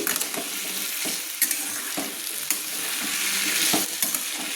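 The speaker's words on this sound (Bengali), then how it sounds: "এবার আমি আলুগুলো ভেজে নেব আলুগুলো নেড়ে নিচ্ছি" Potatoes fry in hot oil over a high flame while being stirred in a pan, a loud steady sizzle broken by repeated scraping and knocking of the spoon, no talking.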